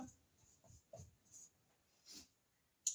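Writing out a chemical equation by hand in a chemistry lesson, with several separate scratchy strokes and a sharp tap at the end, close and quiet, broken by short pauses.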